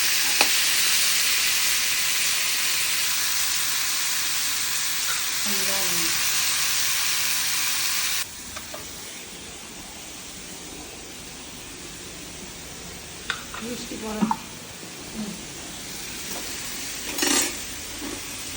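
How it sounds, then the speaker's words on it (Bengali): Shrimp deep-frying in plenty of hot oil for a jackfruit-and-shrimp curry, a loud steady sizzle through the first half that drops to a quieter bubbling, with a few clinks and scrapes of a utensil later on. "ছাকা ছাকা তেলে চিংড়ি মাছগুলো ভেজে নেওয়া হচ্ছে।"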